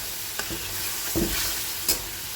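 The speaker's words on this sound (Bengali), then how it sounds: "জিরা ধনের পেস্টটা এক চামচ দিয়েছি আর এক চামচ দিয়ে দেবো আমি দিয়ে এটাকে কষাবো আর দেবো হলুদ" Cumin-coriander paste and turmeric sautéing in a pan, a steady soft sizzle with a few brief scraping stirs of a spoon, close and alone without any voices.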